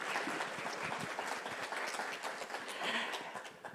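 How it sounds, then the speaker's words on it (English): Faint, distant applause from an audience at a morning conference session rolls on evenly for a few seconds, soft and washed out. "please give a round of applause for Missy Buchanan"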